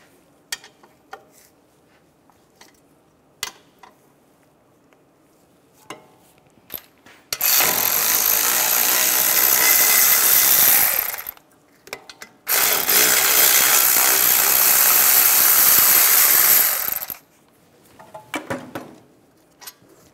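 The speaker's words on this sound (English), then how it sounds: "Using an 18mm socket, take the two caliper bracket bolts out." A power tool with an 18mm socket spins out the caliper bracket bolts on a 2011-2015 Chevrolet Cruze front brake. Two loud sustained whirring bursts of about four seconds each, preceded and followed by scattered light metallic clicks and taps.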